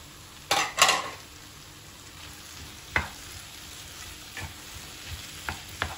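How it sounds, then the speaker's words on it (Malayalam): Tomatoes, green chili and coriander frying with garlic and onion in a pan, a quiet sizzle under a couple of sharp utensil scrapes and stirring knocks early, then sparse clinks against the pan, close and without talk. "നല്ലപോലെ ഒന്ന് ഫ്രൈ ആവണം"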